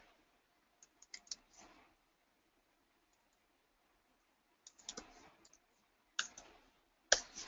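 Sparse keystrokes on a computer keyboard while someone types code, coming as short clusters of quiet clicks separated by long silent pauses, recorded close and faint.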